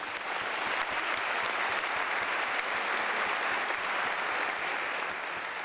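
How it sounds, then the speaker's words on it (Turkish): A concert audience at a tribute show applauds in a steady wash of clapping, moderately distant and unbroken, with no voices over it. "En büyük alkış büyük ustaya gelsin."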